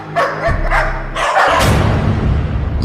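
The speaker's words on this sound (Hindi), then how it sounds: "वो कुत्ता भी हमेशा भौंकता ही रहता।" A dog barks again and again inside a haunted house, several loud, close yaps and woofs in quick succession with no voices over them.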